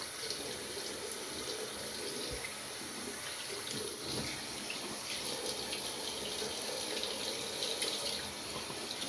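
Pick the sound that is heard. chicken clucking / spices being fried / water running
water running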